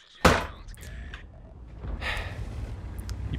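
A single tank cannon shot fired from an FV4202-style medium tank in World of Tanks booms out sharply at the start, then rumbling battle ambience with engine drone and distant noise carries on underneath.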